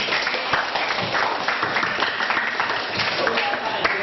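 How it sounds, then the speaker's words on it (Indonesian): An audience of students claps for the director of Perum DAMRI during his visit to a school, a dense, steady patter of hands with chattering voices mixed in throughout. "Tepuk tangan dong."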